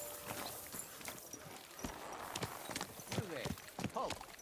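Horse hooves walking in the video game Kingdom Come Deliverance 2, a close, uneven series of clip-clop footfalls over a few seconds with soft background ambience.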